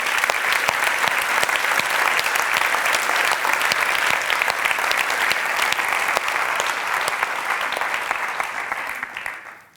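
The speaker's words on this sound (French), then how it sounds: "Un grand applaudissement pour tout le personnel ici autour." Sustained audience applause in a theatre during a conference, a dense, loud and even wash of clapping from a large crowd that fades out at the very end.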